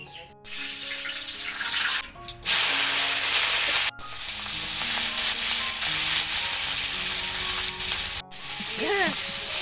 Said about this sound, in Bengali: খানদানি কড়াইতে খিচুড়ি রান্না করতেছে